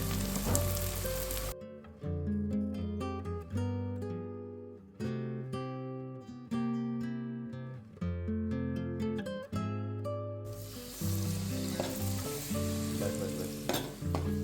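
Crackling sizzle of village-style spice masala frying in hot oil at the start and end, with tonal music playing in between.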